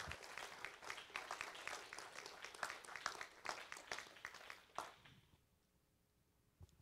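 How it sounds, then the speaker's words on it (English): A church congregation at a Baptist service claps together in a steady, moderately close round of applause that fades out over a few seconds and ends in near silence. "How about we give the Lord a hand of applause for what he's doing?"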